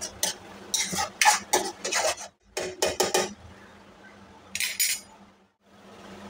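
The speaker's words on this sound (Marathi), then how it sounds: "परत व्यवस्थित परतून घ्यायचं आहे" A rice mixture with garam masala being stirred and sautéed in a pan, heard as bursts of scraping and rasping from a utensil against the pan, separated by short pauses, close and fairly quiet.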